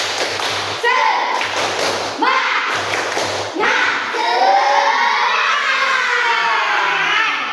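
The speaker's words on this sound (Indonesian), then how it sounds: "1, 2, 3, tepuk semangat." Schoolchildren in a Qur'an Hadith class chant a rhythmic spirit cheer together, with thumping claps in a steady beat between loud group shouts.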